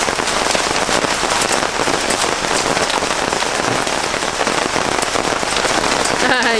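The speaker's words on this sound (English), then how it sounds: "Little tiny bits of hail." Tiny bits of hail fall outside, pattering densely and continuously on surfaces, loud and close, with sharp individual ticks standing out from the steady clatter.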